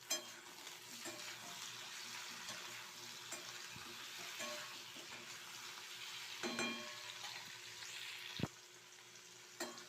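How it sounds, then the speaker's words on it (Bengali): Tomatoes stir-fry in a pan for cauliflower curry, sizzling steadily and softly under repeated scraping stirs, with a few sharper clinks of the spoon against the pan near the end. "টমেটো দিয়ে ভালো করে একটু নাড়িয়ে চাড়িয়ে নিয়েছি"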